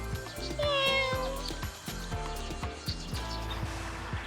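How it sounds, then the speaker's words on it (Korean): A cat beside a stone monument pavilion with a tortoise-based stele gives several drawn-out, wavering meows in close succession, clear and near over light outdoor background. "고양이 한 마리가 이곳을 지키고 있네요."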